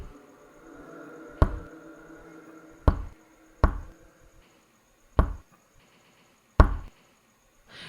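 Five sharp, separate knocks on a front door, spaced irregularly, loud and close with a faint low background, in a horror story setting.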